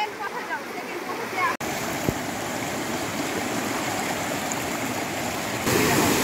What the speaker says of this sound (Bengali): ওই যে সামনে না, এই যে পালংখিয়াং ঝর্ণা।